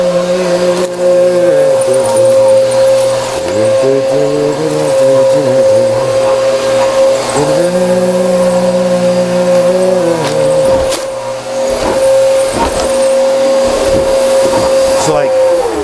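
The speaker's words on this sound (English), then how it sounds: "Glad we're documenting maybe the only times that Josh vacuums." A household vacuum cleaner runs loud and close inside an old manor house, its steady whine rising and falling as it is pushed about, with people talking over it and a short dip near the end.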